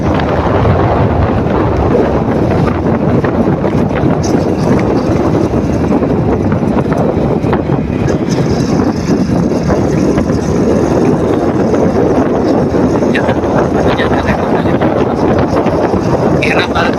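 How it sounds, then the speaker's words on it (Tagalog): Strong wind buffets the microphone in a steady, loud roar that barely lets up from start to finish, on a road ride near Mt. Parker, South Cotabato. "talagang mataas ang hangin"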